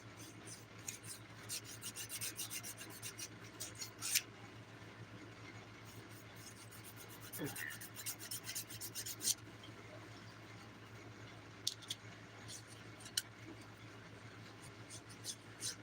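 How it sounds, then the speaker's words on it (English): Fingernails being filed with a nail file during a dip powder manicure, a soft repeated rasping in short bursts of strokes, fairly quiet and close with pauses between passes. "Doing my usual filing routine."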